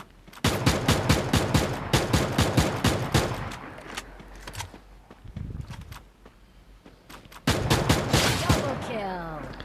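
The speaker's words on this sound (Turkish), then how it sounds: "Kendisini tekrardan vurdum." Rapid bursts of gunfire from a battle royale video game, firing in dense volleys for several seconds, falling quiet, then resuming in a loud closing burst with a whooshing game effect at the end.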